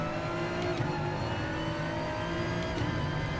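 Engine of a 2005 BMW M4 GR4 race car on a wet track in Gran Turismo Sport, a steady high-pitched racing drone with brief gear-change dips, heard alone with no talk.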